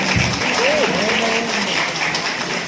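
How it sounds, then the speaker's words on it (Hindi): A crowd at a song-promotion event in Lucknow claps in applause, a steady bright wash for nearly three seconds, with a voice calling out briefly over it. "एक बार ताली बजा के आशीर्वाद देना"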